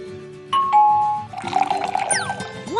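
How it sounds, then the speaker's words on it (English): A cartoon water pump is pressed and water rushes out: a bright chime-like tone rings first, then gushing, splashing water with quick whistling sweeps, close and clear with no voices. "If we press the water pump, the water comes out."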